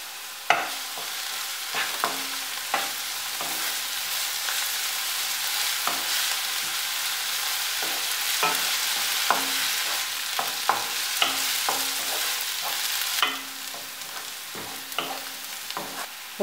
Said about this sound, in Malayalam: ഇതിലേക്ക് ഒരു നുള്ളു ഉപ്പ് ചേർത്ത് ഒന്ന് വഴറ്റിയെടുക്കാം.